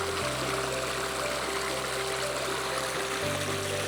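Creek water swishing through a gold pan of gravel, a steady close wash of flowing and trickling water with no talk.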